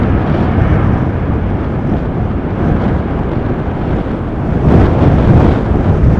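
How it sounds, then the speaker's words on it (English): Strong wind from Storm Pia buffets a camera microphone at Amsterdam Schiphol Airport, giving a loud, continuous roaring rumble that swells into a heavier gust near the end, with no talking. "Wind pushes the camera up or down in an instant"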